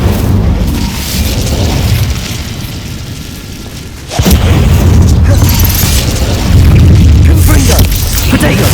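Incendio fire spell blasts in the Hogwarts Legacy video game: a sustained roaring burst, a short lull, then a sharp loud onset into renewed heavy rumbling bursts.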